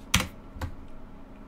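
Two separate clicks of typing on a computer keyboard, a louder keystroke followed by a softer one about half a second later, close and alone in a quiet room.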